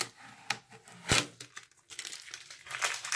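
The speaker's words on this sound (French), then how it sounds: "retirer le scotch qui va nous embêter" Crinkling, tearing sounds of adhesive tape being peeled off a camera lens, with a few sharp rips followed by a longer steady crackling pull, close by.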